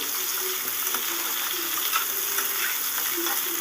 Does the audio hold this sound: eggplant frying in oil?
yes